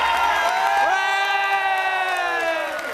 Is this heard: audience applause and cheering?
yes